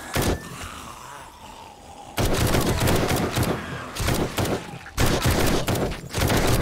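Gunfire from a gun in the video game 7 Days to Die comes in loud bursts of rapid shots, separated by short quieter gaps with faint background game sound.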